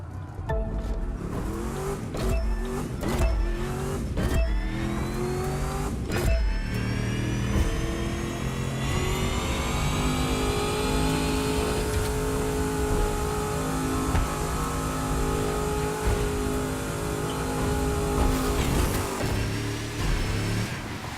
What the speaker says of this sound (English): As always, burn the tires till they are in the green zone